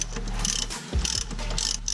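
A ratchet clicking in a short burst as a bolt is driven into a car hub on a 2JZ project, brief mechanical pawl ticks with a pause in the middle, close and fairly quiet.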